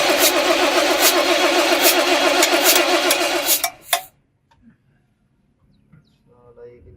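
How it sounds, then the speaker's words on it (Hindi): An Ashok Leyland H-series six-cylinder engine under repair, heard with a loud, steady mechanical roar for about four seconds that cuts off abruptly, followed by near silence with faint scattered sounds. "चलो सेल्फ मारने जा रहे हैं"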